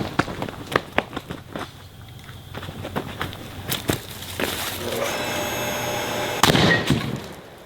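Car batteries bolted together blow apart in a big explosion after a run of sharp crackling pops. A final loud burst and a sustained roaring rush follow, close and harsh.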